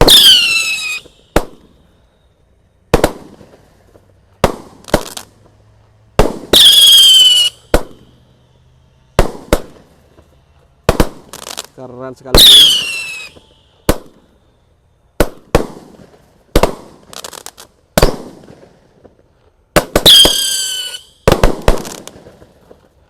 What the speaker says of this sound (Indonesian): Tadi kita eksperimen menyalakan disco 1 kardus sekaligus ya.